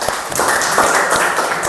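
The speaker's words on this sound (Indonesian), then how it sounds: "Ya, terima kasih, tepuk tangan." A classroom group claps in a short burst of applause, dense and fairly loud from start to finish.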